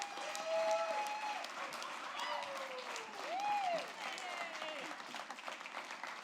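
Applause greeting a new president at a Startup Grind event, a faint, even wash of clapping from a crowd, with whistles or cheers rising above it now and then.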